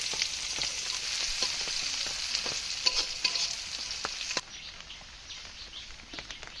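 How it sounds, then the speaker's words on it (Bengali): Ingredients fry in hot oil for bhorta in a village kitchen on a rainy day, giving a loud continuous hiss with occasional stirring clicks. The sizzle then drops abruptly to a quieter crackle, close by with no talk. "এটা ভেজে নিতে হবে।"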